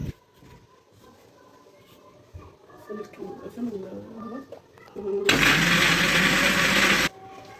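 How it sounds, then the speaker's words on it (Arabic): A kitchen blender whirs loudly for about two seconds, chopping garlic, onion and tomato with water, after a stretch of quieter handling and talk. "ونحطهم كده في الخلاط. أحط عليهم شوية مية كده عشان الخلاط بس يلف"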